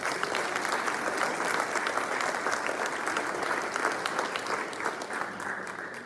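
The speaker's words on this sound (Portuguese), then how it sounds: "Você pode até aplaudir o Senhor por isso." Steady, dense applause from a church congregation, sustained at even loudness throughout without a break.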